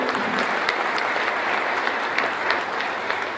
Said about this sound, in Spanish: esto merece un aplauso